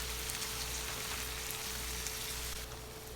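Shrimp and softened vegetables sizzle steadily in a pan over medium heat for a paleo stir fry, a continuous close hiss of frying with no pauses and no talking.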